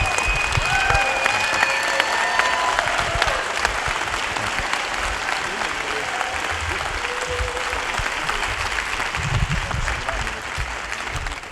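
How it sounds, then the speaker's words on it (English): Steady, full applause from a symposium audience fills the room for over ten seconds, dense and even, with faint voices and brief tones drifting through early on. "let's give one more round of applause"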